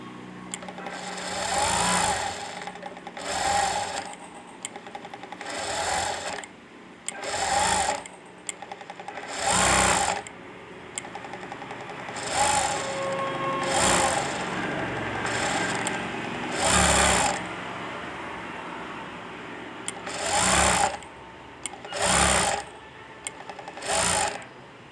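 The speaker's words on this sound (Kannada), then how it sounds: "ನಾನು ಹೊಲಿಗೆನೇ ಹಾಕ್ಕೊಳ್ತಾ ಇದ್ದೇನೆ." Sewing machine stitching thread piping in bursts, each run of rapid mechanical whirring lasting a second or two and separated by short pauses, close and loud, no talk.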